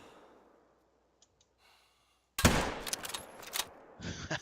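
A rifle fires in the hunting game Call of the Wild, Cuatro Colinas reserve, with a sudden loud crack followed by a few quieter clicks and reload noises after a near-silent lead-in.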